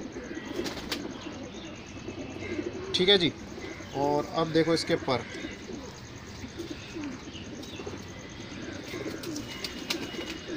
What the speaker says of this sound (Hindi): ये करीब 20 साल का कबूतर होगा।